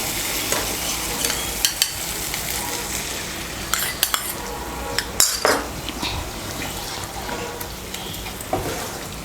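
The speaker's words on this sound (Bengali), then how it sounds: "টক দইটাকে ভালো করে মিশিয়ে নেব মশলার সঙ্গে।" Yogurt being stirred into a spice masala in a pan: a spoon scrapes and clinks against the metal in repeated strokes over a continuous sizzle, close and fairly loud.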